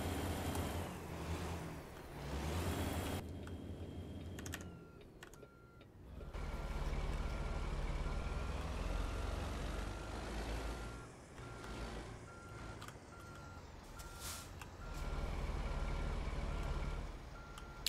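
A heavy truck in American Truck Simulator, driving through Oregon, gives a steady low engine drone that swells and eases with brief pauses, accompanied by repeated electronic beeps.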